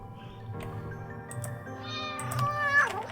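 A cat meowing close by, a few drawn-out rising and falling meows, the last one louder and more strained, with no talk over it.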